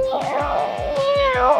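A cat meowing, a close, loud, drawn-out whining meow with wavering pitch, sounding alone with no talk.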